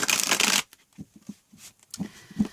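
A quick riffle of tarot cards at the start, followed by a few soft taps and flicks as the deck is handled, close and fairly quiet.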